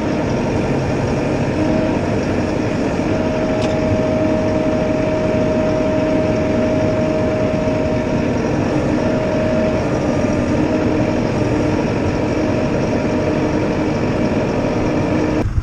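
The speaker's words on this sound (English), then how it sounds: "I got both tractors on." Steady low engine rumble from two tractors running at once, continuous, loud and close, with a faint sustained whine above it; no one speaks.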